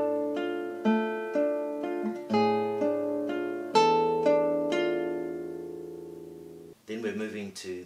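Classical guitar plays one bar of Beethoven's Moonlight Sonata: plucked arpeggiated notes and chords ringing out over sustained bass, each new attack clear and close, the final chord decaying before a brief voice enters at the end.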